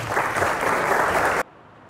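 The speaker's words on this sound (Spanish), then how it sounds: "Venga ese aplauso." An audience applauds a professor as he is welcomed to speak at a cultural institute event. The dense clapping is loud and steady, then cuts off abruptly after about a second and a half.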